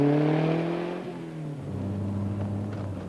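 A Saab 99 Turbo engine revs and winds down, its harmonic tone falling in pitch over about a second, then settling into a steady mid-range drone, close and fairly loud with no talking.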